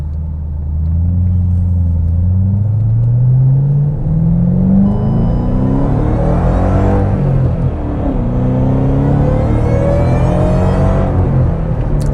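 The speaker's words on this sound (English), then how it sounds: "Little supercharger whine there for you." A supercharged 5.4-litre 2010 Ford GT500 with six-speed manual under way, engine droning as it pulls through the gears with a rising supercharger whine above the rumble, loud and steady from inside the car, no talking.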